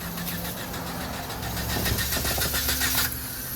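An overheated car engine cranks steadily with a fast, rhythmic churning that grows louder midway and then cuts off sharply, leaving a faint hum.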